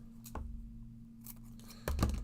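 Scissors snip through double-sided foam tape in a few crisp, close cuts, quiet and spaced apart over a low steady hum.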